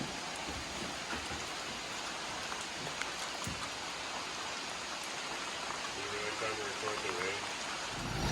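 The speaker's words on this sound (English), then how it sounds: "The rain finally won." Rain falls steadily on an outdoor building site with an exposed subfloor, a dense, even hiss of drops filling the whole stretch, with a brief murmur of voices low in the mix near the end.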